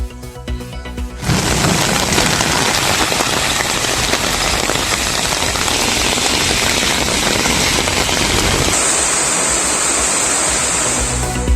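Heavy overnight rain pours down in the Coimbatore and Theni districts during a thunderstorm, a loud, dense, steady hiss that starts abruptly after a brief lead-in and continues unbroken. No distinct thunderclap stands out.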